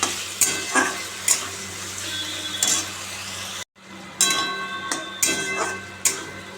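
Spices being sautéed in a pan for egg curry give a busy sizzle broken by regular scraping strokes of a spoon against the metal, repeated every second or so with a brief pause midway.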